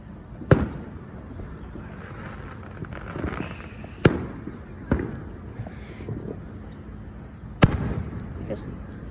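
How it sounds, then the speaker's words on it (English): Fireworks burst during a neighborhood show, four sharp booms spaced a few seconds apart, each with a short echoing tail, under a low background murmur. "Just massive fireworks."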